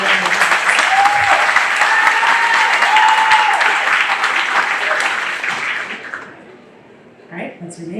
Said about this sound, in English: Can we give Scarlett a round of applause?